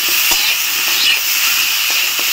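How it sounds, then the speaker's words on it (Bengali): Vegetables, pumpkin and sweet potato, frying in a pan with salt and turmeric in a little oil, giving a loud, steady hiss with a few faint stirring knocks. "নেড়ে চেড়ে একটু হালকা করে ভেজে নেব"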